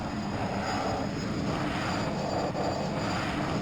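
Civilian airliner engines in the game Arma 3 drone at a steady, loud, continuous level, with a dense broadband roar and faint high whine, no talk over it.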